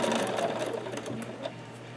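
Quilt fabric runs under a sewing machine's needle, which stitches in a rapid, close mechanical whir for a short burst that tapers off slightly.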